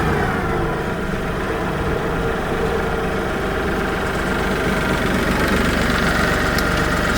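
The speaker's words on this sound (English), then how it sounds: "Pull the tractor down here and park it for a moment." Tractor engine idling while parked on a hillside during work clearing a scenic overlook, a steady, loud, continuous low rumble with a faint knocking pulse, no voices over it.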